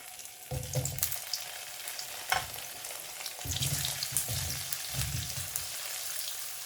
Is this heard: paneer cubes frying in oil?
yes